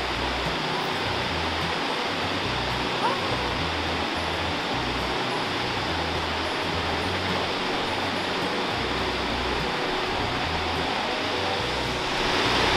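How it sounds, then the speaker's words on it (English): Outdoors, a waterfall pours steadily over the edge of a hill, its broad, even roar filling the whole stretch without a break and with no one speaking over it. "There's a waterfall right there."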